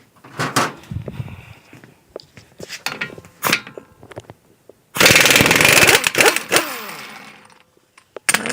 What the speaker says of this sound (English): I'm going to cheat and use an impact